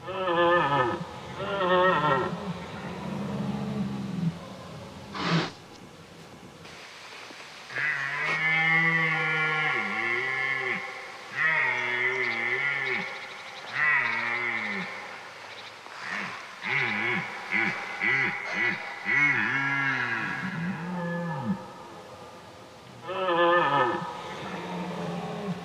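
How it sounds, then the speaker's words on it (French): Red deer stags roar through a forest during the rut, with a series of deep, drawn-out bellows rising and falling in pitch, some overlapping, all carrying at moderate loudness across the woods. "Le son du brame envahit alors toute la forêt."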